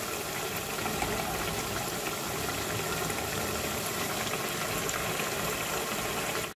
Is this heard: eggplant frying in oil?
yes